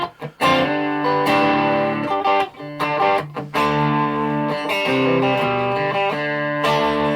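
Electric guitar played through an overdrive pedal with a slightly hairy crunch and no reverb, strummed chords ringing loud and close with brief pauses between phrases.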